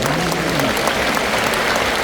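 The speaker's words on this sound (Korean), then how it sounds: "박수" A large crowd at a church denomination's anniversary assembly breaks into loud, dense applause that fills the whole moment without pause.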